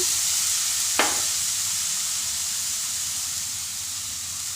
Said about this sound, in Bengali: উনুনে আমি প্যান বসিয়ে দিয়েছি এক চামচ ঘি ব্রাশ করে নিয়েছি এখন আমি দিয়ে দিচ্ছি কোরানো নারকেল